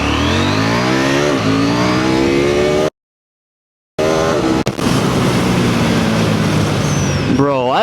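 A KTM motorcycle engine revs hard as it accelerates during a wheelie, loud and close with rising pitch and heavy wind noise. It cuts out abruptly for about a second, then the roar resumes.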